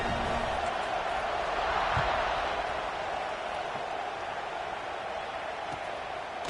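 A stadium crowd in a football video game roars in a steady, dense wash of cheering that holds for several seconds, with no clear break.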